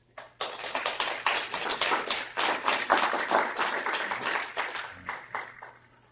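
An audience applauds to welcome a speaker at a videoconference event, steady clapping of a modest crowd that swells, holds for several seconds, then tapers off near the end.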